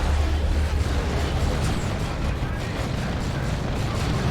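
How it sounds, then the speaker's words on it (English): Grenades exploding in a Warhammer 40k: Dawn of War 2 3v3 match, muffled booms and gunfire rumbling in a dense, steady battle din beneath ongoing commentary. "Grenades going in."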